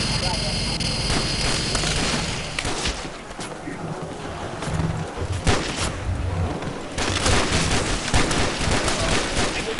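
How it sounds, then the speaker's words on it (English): Rapid bursts of gunfire and explosions in a Call of Duty: World at War Nazi zombies match, loud and continuous through the whole stretch, with the dense crackle thinning briefly midway before picking back up. "I just machine gunned the Dragunov."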